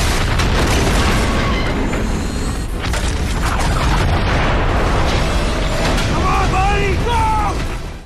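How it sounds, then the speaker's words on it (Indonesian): Bomb detonating inside a building in an action film, a dense sustained roar of blasts and crumbling debris filling the whole span with bright metallic scrapes and whistles near the end, heavy score or effects layered throughout. "Tapi sayangnya bom di gedung itu meledak karena alat penangkal sinyalnya mati."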